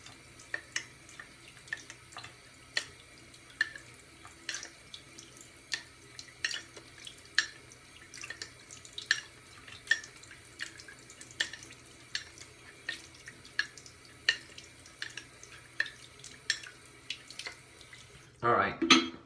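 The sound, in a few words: sharpening strokes on wet Naniwa 8k whetstone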